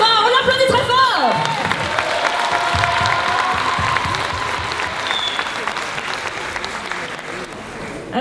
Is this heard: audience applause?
yes